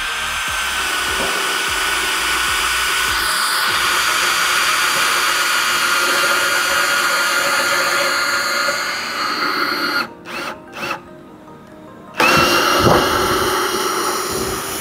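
An HL Premier 818 cordless brushless drill runs at speed 1, a steady loud whine that holds for several seconds, briefly cuts out and sputters, then starts up again.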